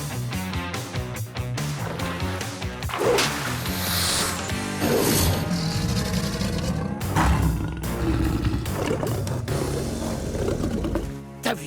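A cartoon lion roars at a crocodile in a wild face-off, a series of loud, rough growling roars running continuously with dramatic animated sound effects and no talk.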